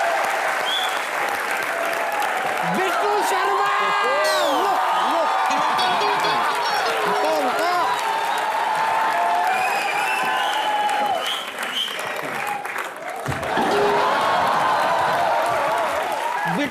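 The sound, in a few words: applause for Karan Johar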